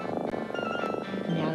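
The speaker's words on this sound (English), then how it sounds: "Now that's the sound of a healthy cat." A healthy cat gives a single drawn-out meow, heard close and clearly with no other sounds.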